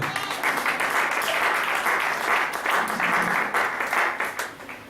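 A church congregation applauds in a sustained burst of clapping, dense and steady for several seconds before tapering off, with some voices mixed in.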